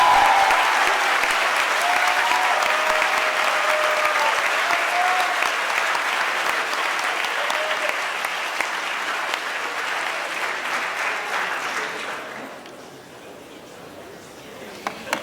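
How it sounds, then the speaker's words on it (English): An audience at a high school awards ceremony applauds a chess championship award winner with a long, loud, dense round of clapping that holds steady for about twelve seconds, then fades to a few scattered claps. "Zach, please rise to receive our applause."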